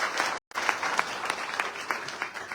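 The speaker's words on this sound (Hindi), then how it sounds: "मैं चाहता हूं उनके लिए जोरदार तालियां।" Audience in a Hindi-language business seminar hall applauding two gurus, a dense steady clapping wash with a sharp cutout near the start, many hands close and loud throughout.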